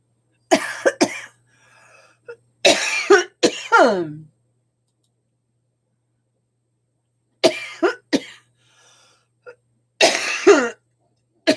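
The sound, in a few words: coughing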